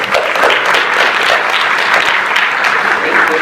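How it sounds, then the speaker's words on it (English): Loud, dense applause at an education gathering, a crowd clapping continuously and close, with faint voices mixed underneath. "We hadn't budgeted for applause after every comment"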